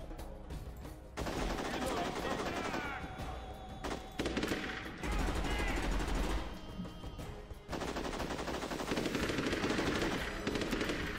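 Gunfire in the video game Unearthed: Trail of Ibn Battuta: loud, dense automatic bursts that rattle almost continuously, with brief gaps between volleys, while a voice talks over the shooting.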